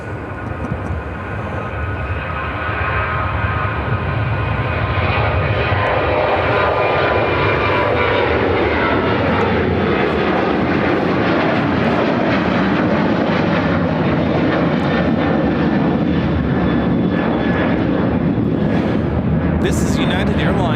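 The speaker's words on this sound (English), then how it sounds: "This is United Airlines 2389 taking off to Fort Myers on the 737-800." A United Airlines Boeing 737-800 departs Chicago O'Hare for Fort Myers, its jet engines swelling from a quieter start into a loud, sustained roar with a falling whine, while people talk faintly beneath it.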